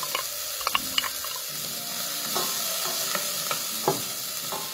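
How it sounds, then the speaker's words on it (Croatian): Spring onion, garlic and chopped olives fry in a pan with a continuous soft sizzle, punctuated by a few light clicks and scrapes of stirring, with no talking. "To ćemo ovako kratko prepržiti."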